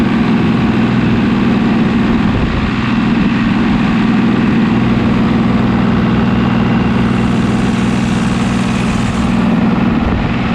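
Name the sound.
engine running on Super 99 tractor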